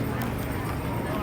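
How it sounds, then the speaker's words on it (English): A horse and buggy rapidly approaches with steady clip-clopping hooves on a St. Augustine street, the rhythm continuous under a busy outdoor background. "We got a horse and buggy rapidly approaching"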